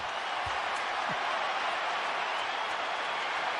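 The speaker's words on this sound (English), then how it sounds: "Standing ovation." Basketball crowd roaring in a steady, loud wash of cheering and applause through a standing ovation, with a faint bounce or thud early on.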